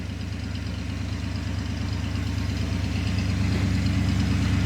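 A 1956 Ford Thunderbird engine idles steadily with a low, even rumble, close by and continuous, no voices over it; it has a small exhaust leak.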